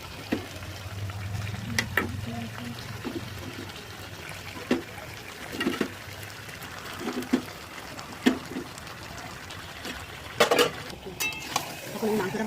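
Large chicken leg pieces fry and are stirred in a home kitchen pan: a steady low sizzle with scattered clanks and scrapes of the spoon against the pan, close and moderately loud.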